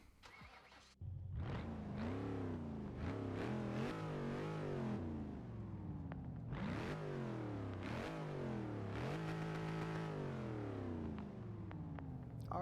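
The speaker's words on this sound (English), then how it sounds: "the first car that we are actually going to be testing out for sound is the Hellcat" A Dodge Hellcat in the video game Forza 6 revs hard in repeated bursts after starting, its engine note climbing and falling in loud, close sweeps with no talk.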